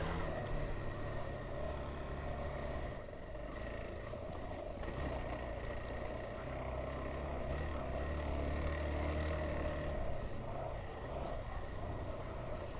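A motorcycle riding slowly over soft sand and rocks on a flat tire, a steady low engine drone with rumbling wind noise, moderately loud and continuous without talk.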